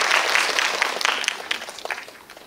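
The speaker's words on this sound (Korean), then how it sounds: "박수 한번 크게 해주세요." Brief burst of audience clapping at a Korean film guest-visit screening event with an actor, loud at first and fading quickly over a couple of seconds.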